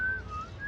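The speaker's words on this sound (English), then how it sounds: "I'm whistling." A person whistles a brief, clear, steady tone that wavers slightly in pitch, heard close and alone for under a second.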